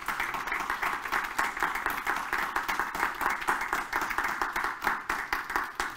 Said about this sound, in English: Give the Lord Jesus a hand clap of praise.